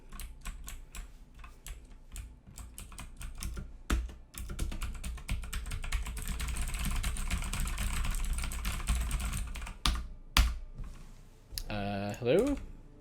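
Rapid, dense clatter of computer keyboard keys being pressed frantically while trying to play a game, loud and continuous with brief pauses, some talk mixed in near the end.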